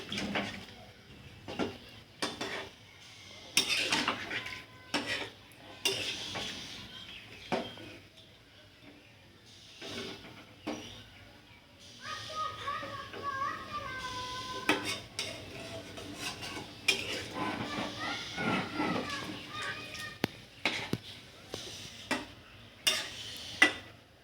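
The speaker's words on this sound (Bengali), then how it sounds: "এবার জল দিয়ে ভালো করে সমস্ত কিছু মিশিয়ে নিয়ে মশলাপাতি আলুটা ভালো করে মিশিয়ে নিয়ে একটু ঢাকা দিয়ে দেবো" A spoon stirs chicken curry with potatoes and water in a pot, giving soft scraping and intermittent clinks and knocks against the metal that come in irregular bursts, fairly quiet and close.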